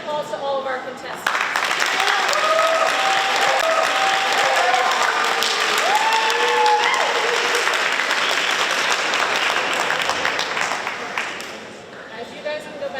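Steady, loud applause from a high school speaking contest audience fills the room for contestants, dense clapping holding for over ten seconds with scattered voices underneath before it tapers off at the end.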